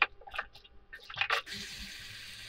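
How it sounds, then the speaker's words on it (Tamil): Water is poured into a pot of vegetable kurma with potatoes and peas, a steady splashing pour that starts after a few brief clinks and rustles and runs continuously to the end. "உருளைக்கிழங்கு பட்டாணி வேகிற அளவுக்கு நம்ம தண்ணி சேர்த்துக்கலாம்."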